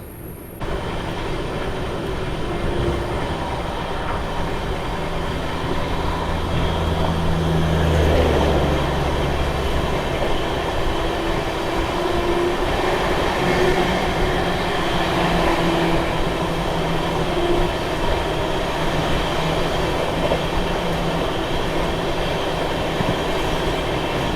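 An Amrit Bharat passenger train running steadily, a continuous rumble of wheels on rails with rattling carriages and faint squeals, heard from inside a sleeper compartment.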